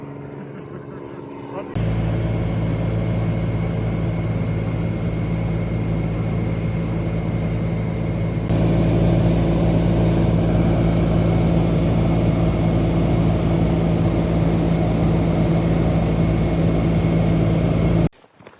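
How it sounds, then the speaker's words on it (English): An aircraft arrives in the Alaskan bush to pick up hunters on a moose river float hunt, its engine a loud, steady nearby drone that grows stronger partway through before cutting off abruptly. "we finally have aircraft incoming."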